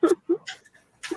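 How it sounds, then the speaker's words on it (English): A pet dog waiting outside a room whimpers and yips close by in three short, pleading bursts with quiet gaps between them. "That's the dog."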